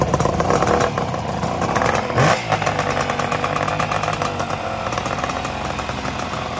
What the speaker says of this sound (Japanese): これは何ていうバイク78年の RG250E です